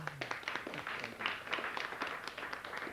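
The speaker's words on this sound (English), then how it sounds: "please give them a round of applause as well" Steady applause from an awards ceremony crowd, a dense patter of many hands clapping at an even level for a few seconds.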